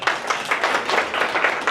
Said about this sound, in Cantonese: 我哋俾啲掌聲啦